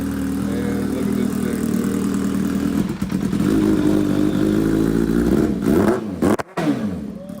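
A Kawasaki Ninja H2 with a high-compression CP piston motor roars loudly and close, holding a steady revving drone before the revs rise and drop, with a brief cut near the end.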